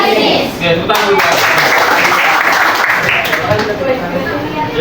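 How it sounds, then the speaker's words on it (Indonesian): Applause from a classroom group after a business lesson, dense steady clapping of many hands throughout, with faint voices mixed into the crowd noise. "Oke, tepuk tangan dulu."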